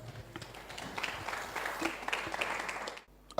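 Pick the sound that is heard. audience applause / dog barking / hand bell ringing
audience applause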